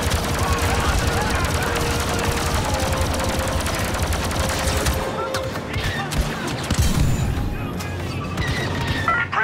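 Rapid blaster gunfire rattles nonstop in a Star Wars Battlefront 2 battle defending gates at the top of steps, dense overlapping bursts and booms, loud and close, with voices shouting among the shots.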